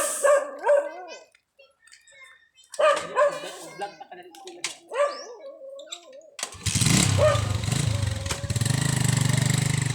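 A dog barks in quick bursts while a person talks nearby, then a loud engine roar starts and drowns out most of the barking.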